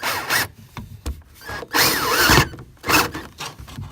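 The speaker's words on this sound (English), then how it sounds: "we're going to go ahead and cross our fingers and drill this hole." A power drill bores a hole through the plywood floor of a bus, giving several short bursts of grinding and whining with brief pauses between them, close and fairly loud.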